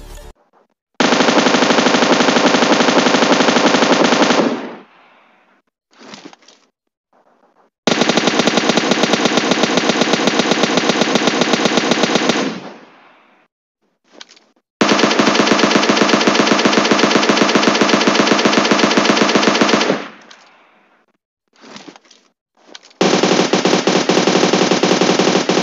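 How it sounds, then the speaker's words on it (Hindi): Loud, sustained bursts of automatic gunfire from M249, M416, SCAR-L and AUG A3 weapons in PUBG Mobile, with four long full-auto strings separated by short gaps and a few brief shots between them. "मैं चाहता हूं कि आप इन सारी गन्स की आवाज़ अच्छे से सुन लें"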